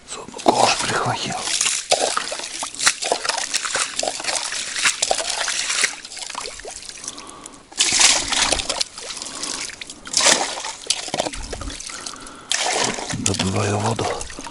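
A ladle scoops water from a taiga stream near icy banks in spring. Sloshing, trickling and splashing come in close, uneven bursts, mixed with broadband rushing water.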